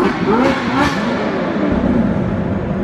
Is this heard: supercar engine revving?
yes